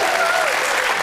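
A brief burst of loud, dense audience applause in a television panel game show studio, clapping steadily throughout with no gaps.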